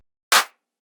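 Layered clap samples in a tech house beat: one sharp, bright, snappy clap with a short decay, close and alone in silence.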